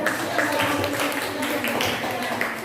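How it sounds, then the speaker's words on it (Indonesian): Students in a classroom applaud a student group after its drama presentation, giving steady, fairly even clapping with murmuring voices mixed in throughout. "Tepuk tangan kepada kelompok"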